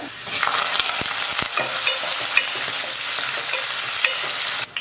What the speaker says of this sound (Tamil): வெங்காயம் பூண்டுலாம் நல்லா வதங்கிடுச்சு